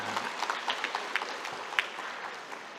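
Scattered clapping from an audience at a university academic senate ceremony, a thin spread of claps rising and fading over a few seconds at moderate distance.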